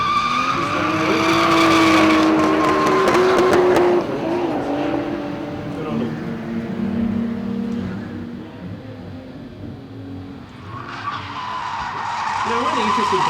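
Drift cars sliding at a team drift event, loud tire squeal and engine roar that fade briefly, then surge back as the cars return, with a commentator talking over the noise.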